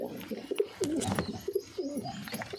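Pigeons in their loft coo close by in soft, repeated throaty phrases.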